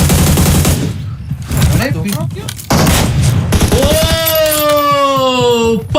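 Loud, dense bursts of gunfire and rapid shots in a shooting video game, with mechanical clatter and a ringing tone toward the end. A man briefly exclaims over the shooting.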